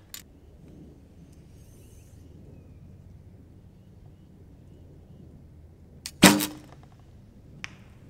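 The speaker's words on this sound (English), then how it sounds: "And I'm shooting these arrows as good as I possibly can." An archery bow without stabilizers releasing an arrow at a target: a single sharp, loud snap after long near-silence, followed by a brief faint tick.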